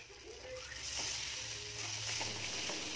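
Mutton caul fat sizzles softly in a pan with mutton masala while being stirred, a faint steady crackle with a few light scraping and clinking touches.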